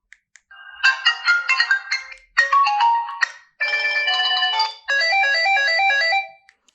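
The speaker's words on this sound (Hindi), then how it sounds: "रिंग टून्स की जो आवाज़ है वो भी तकरीबन ठीक है" Default ringtones played through the small speaker of an E-Tachi Star One feature phone, four distinct electronic melodic tunes in short bursts one after another, clear and bright with silence around them.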